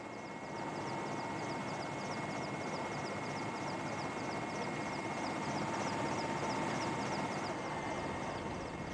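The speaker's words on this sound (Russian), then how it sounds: "Все вертолеты вот эти камуфляжные, они все военные." Camouflaged military helicopters working at the Chernobyl nuclear power plant in August 1986 give a steady, loud rotor and engine drone, with a fast rhythmic chop running throughout and no pause.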